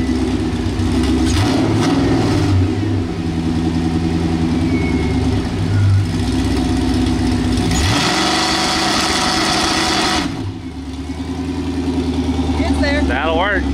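The LS-swapped Chevy Blazer's 4.8 V8 is held on a two-step, revving loud and close with a rough, pulsing rumble. It surges and dips a few times, then settles back to a lower drone near the end.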